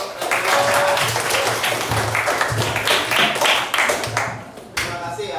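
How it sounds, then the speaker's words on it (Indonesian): A classroom of pupils applauds in a lively, sustained round of close, crisp clapping with some chatter mixed in, tapering slightly near the end. "Berikan tepuk tangan untuk"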